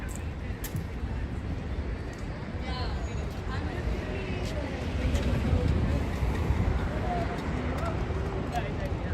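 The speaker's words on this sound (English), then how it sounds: "It's a lot of traffic, a lot of wind." Dense New York City rush-hour street traffic on Lafayette Street, cars and trucks rumbling across the blocks with gusting wind, a steady broadband roar that swells louder midway, with occasional voices in it.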